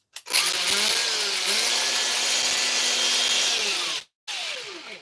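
Faulty power tool with melted brushes running on a Dewalt battery through an adapter, a loud whining motor hum that runs steadily for about four seconds, cuts out briefly, then starts again.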